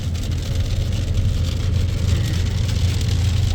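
Heavy rain drums on a moving car over a low engine rumble. The patter is dense and constant, and no one is talking.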